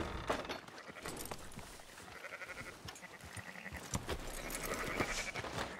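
Sheep bleat several times in Red Dead Redemption 2 over a busy background of clicks and game sounds, with no talking.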